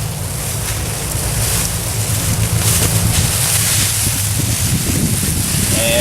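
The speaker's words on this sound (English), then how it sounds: "And it did get fairly windy" Steady wind gusts outdoors buffet the microphone with a broad, constant rushing roar and low rumble, loud and unbroken throughout, with no voices.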